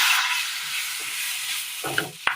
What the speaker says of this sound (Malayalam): അതിലേക്ക് നമുക്കൊരു അല്പം തേങ്ങാപ്പാൽ ചേർത്ത് കൊടുക്കാം